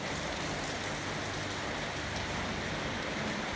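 Steady rain falls throughout, a dense even patter on surfaces with no voices, constant and fairly close.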